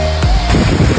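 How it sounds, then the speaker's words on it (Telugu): Water pours down at the Kathuva waterfall in a loud, continuous rumble, caught close with gusts of wind buffeting the microphone. "ఆ శబ్దం వినిపిస్తుందా నీకు? వాటర్ దిగుతుందని."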